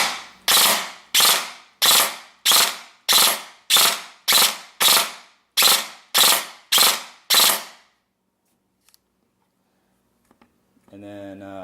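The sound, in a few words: gun firing three-round burst, selector malfunction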